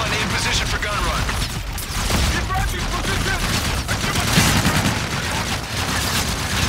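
Sustained aircraft gun-run fire in the military shooter Call of Duty Infinite Warfare, a loud continuous barrage of rapid shots and booms under radio chatter, dense and unbroken throughout.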